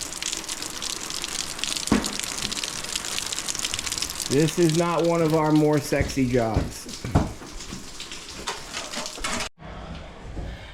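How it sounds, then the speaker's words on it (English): Groundwater gushing and pouring steadily into a dug pit around a leaking basement tank, a continuous rushing wash heard close, with someone talking over it partway through and a brief clatter near the end. "As we dig, the water just seems to come in faster and faster,"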